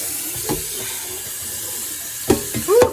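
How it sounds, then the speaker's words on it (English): Tap water runs steadily into a kitchen sink as items are rinsed, a constant hiss with a few clunks and splashes of handled dishes near the end, close and fairly loud with no talking. "I like to rinse my stuff out as I go too"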